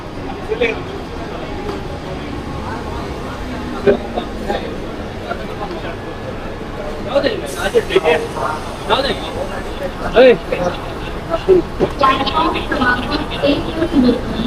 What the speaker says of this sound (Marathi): आता आपली ट्रेन रनिंग झाली गोवंडी स्टेशनला